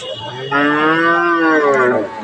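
A single long, loud crossbreed cow moo rising and holding for over a second, close by at a cattle market, with faint background noise before it.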